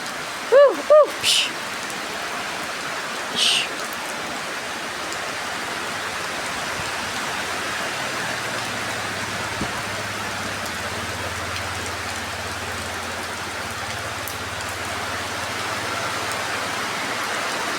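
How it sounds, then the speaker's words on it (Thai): Steady rain falls throughout, a constant hiss of drops on surfaces, with a few brief bird chirps near the start. "ฝนตกแล้ว ฝนตกแล้ว"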